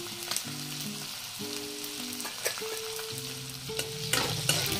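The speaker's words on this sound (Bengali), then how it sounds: "এটা পুরা ভাজা ভাজা হইব, তাইলে এই শুটকিটা ভাল লাগবে খাইতে।" Dried fish (shutki) seasoned with turmeric and salt fries in a pan, a steady close sizzle with occasional stirring knocks and a faint background tone, no voices.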